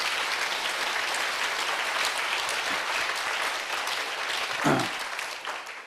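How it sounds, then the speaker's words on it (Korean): A church congregation gives sustained applause during a Korean worship service. The broad, dense clapping from many people fills the space at an even level for about six seconds and tapers slightly near the end. "자, 박수로 주님께 영광 돌립니다."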